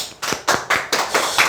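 Several rounds of hand clapping from a small group at a Korean call-centre counselling lecture, arriving in bursts roughly every quarter second and fairly close, with no talking over it.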